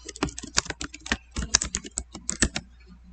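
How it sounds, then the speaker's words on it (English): Rapid keystrokes on a computer keyboard while a last name is typed, an irregular run of close, crisp clicks that pauses briefly before trailing off, with no voices. "You want to type your last name."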